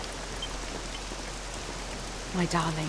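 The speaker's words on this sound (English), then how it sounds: "This accursed rain will chill ye to the bone." Steady rain falls in the video game Dragon Quest VII Reimagined, a constant hiss throughout at moderate level, with a character's voice speaking briefly near the end.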